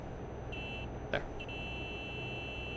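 A truck horn in a trucking video game gives two short sustained honks close by over a steady engine rumble, with a brief sharp click between them.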